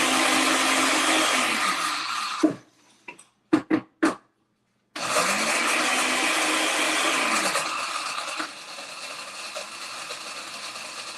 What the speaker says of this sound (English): so all I did was grind it up in a blender.